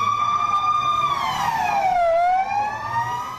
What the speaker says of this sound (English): Police sirens blaring in Israel's commercial capital.